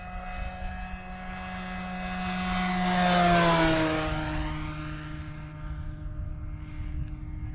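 A large 7-foot RC Cessna model airplane flies a fast low pass on its maiden flight, its propeller engine droning louder as it approaches, then falling in pitch with a Doppler sweep as it moves away.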